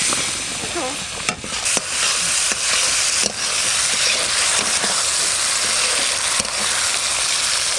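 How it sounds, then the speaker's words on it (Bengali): Steady, loud sizzling and crackling of onion and tomato frying in a pan, with occasional stirring scrapes and no talking. "পেঁয়াজ আর টমেটো ভাজা হয়ে গেছে"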